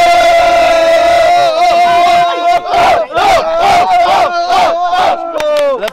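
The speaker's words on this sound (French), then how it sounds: "Les gars, je pense qu'on peut tous s'applaudir très fort." A group of friends in Melbourne, Australia, bursts into loud cheering, shouts and clapping in uneven rolling waves after a sustained held vocal tone, close and energetic.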